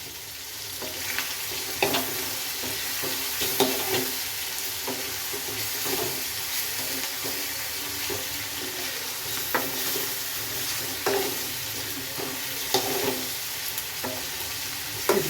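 Chicken sukka frying in oil in a pan, a steady close sizzle broken by repeated stirring scrapes and clinks, with no talk.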